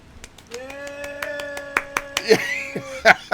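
A small group clapping for a guest on an interview stream: sparse, separate hand claps that become more irregular, with a voice singing or speaking over them throughout.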